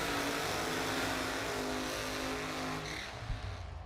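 Top Alcohol Funny Car drag racing engine at Dodge Power Brokers qualifying, a dense, loud, roaring blast that fills the whole range continuously before easing off near the end, with no talk.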